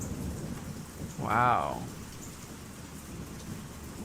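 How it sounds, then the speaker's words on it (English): Rain falling outside with a low rumble of thunder, a steady soft patter throughout; a voice briefly exclaims over it midway. "Can you hear the rain, or is it really, really quiet?"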